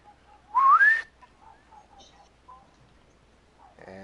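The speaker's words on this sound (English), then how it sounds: "You keep walking and you hear a whistle." A single rising whistle sounds sharply and fairly loud, lasting about half a second, then gives way to quiet background with faint scattered chirps and a brief clatter at the end.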